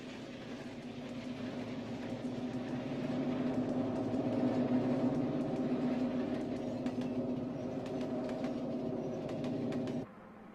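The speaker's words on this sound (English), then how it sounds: "the Lehigh Valley streamlined John Wilkes passenger train roars around a bend" A streamlined Lehigh Valley John Wilkes model passenger train rounds a bend on a large layout, a steady rolling hum with rail clatter that builds slightly, holds, then drops off abruptly near the end.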